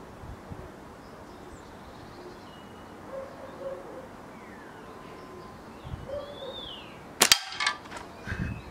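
A Valkyrie Huntsman catapult shot strikes a target outdoors: one sharp, loud crack late in the clip with a short clattering tail, set against quiet ambience and faint birdsong.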